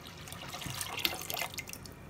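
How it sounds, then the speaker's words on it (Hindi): Water is poured from glasses into a pot of milk heating on a stove, a faint steady splashing and trickling pour with no voices. "ये 2 गिलास मैंने इसमें पानी ऐड कर दिए"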